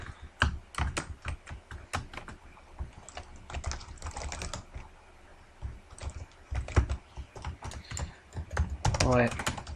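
Keys clack irregularly on an Amstrad computer keyboard during play of the game E.X.I.T, with quick bursts of presses separated by short pauses and a brief voice near the end.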